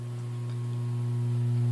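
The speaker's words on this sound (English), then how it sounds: "That is the source of the hum, and I'm turning it off." A faulty 6L6 vacuum tube in an amplifier gives off a steady, loud electrical hum with strong low harmonics. It holds constant and grows slightly louder, with no talking.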